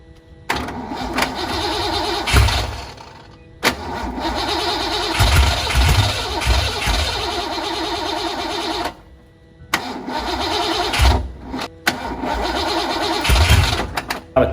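A car with a 331 stroker engine and a weak, nearly dead battery cranks repeatedly in several long attempts separated by short pauses, loud and close, without catching.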